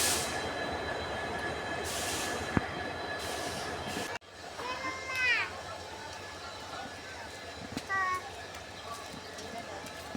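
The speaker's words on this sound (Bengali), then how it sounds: "দেখেন অনেকগুলা ট্রেন আসে যায়, কিন্তু আমাদের ট্রেন আসে না" Trains passing at a railway platform in Guwahati, Assam, a low rumbling roll with high wheel squeals midway and a brief horn-like tone later, heard at moderate distance amid crowd murmur.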